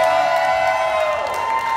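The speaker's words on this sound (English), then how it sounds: "Can we get another round of applause for my good friend Slim over here?" Karaoke crowd at a bar cheering and clapping for a singer, loud and sustained, with whoops over a held tonal note.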